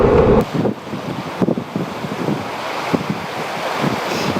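Strong wind buffets the microphone at a beach used for windsurfing while waves surge and wash in the background, a loud, steady roar with gusty bursts.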